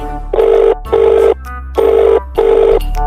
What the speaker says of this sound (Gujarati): ચાલ પેલીને ફોન કરું